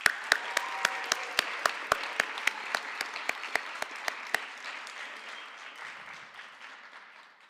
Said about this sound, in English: Let's give them a big thank you with a huge round of applause.